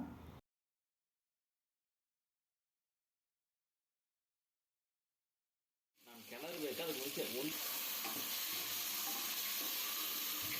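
Marinated chicken is added to a pan of tomatoes for chicken pulao, bursting into a loud, steady sizzle after several seconds of silence.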